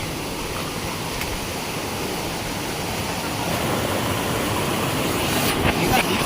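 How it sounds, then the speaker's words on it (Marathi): Muddy flood water rushes fast over rocks during heavy monsoon rain in Konkan, a loud steady roar that swells a little toward the end, with no clear talking. "आपल्याकडे पाणी किती पण आलं ना तरी पण ते स्पीडने खाली जातं थांबत नाही"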